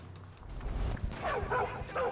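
A dog in the video game Far Cry 5 gives a short run of soft yips and whimpering barks, fairly close but quiet, over low game background noise.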